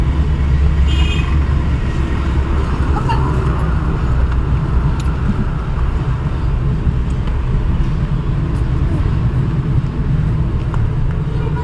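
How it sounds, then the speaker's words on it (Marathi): Steady low rumble of heavy highway traffic heard from inside a moving car, a continuous loud road drone with passing vehicle noise throughout. "हायवेला लागलो, पुढं खूप ट्रॅफिक होतं"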